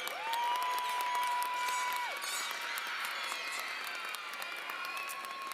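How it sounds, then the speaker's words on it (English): Graduates at West High School's 2025 ceremony give a sustained round of applause with scattered cheers, a large crowd clapping continuously while a steady tone hums beneath and the noise eases a little after the first couple of seconds. "Graduates, give them a round of applause for everything they've done for you."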